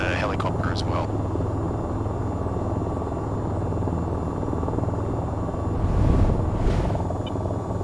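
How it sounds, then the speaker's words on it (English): An AH-94 attack helicopter holds a hover in the flight game VTOL VR, its steady rotor and engine rumble droning throughout, swelling briefly near the end, with a voice talking over it. "So starting with the AH-94, and here we are in the hover."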